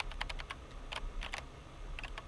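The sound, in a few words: typing on a computer keyboard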